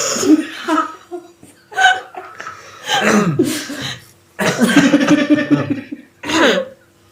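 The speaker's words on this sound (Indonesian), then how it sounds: "Batuk" Several harsh coughing bursts come in uneven clusters, mixed with short laughs and breathy chuckles, close and fairly loud.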